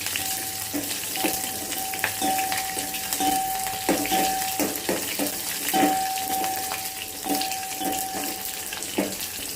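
Green chillies and curry leaves frying in hot oil in a home kitchen pan, a steady close sizzle with scattered crackles and pops running throughout, no voices.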